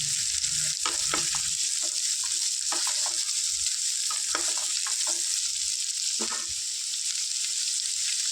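Ivy gourd (dondakaya) frying in a pan gives a steady, close sizzle, with repeated scraping stirs breaking through it throughout and no voices.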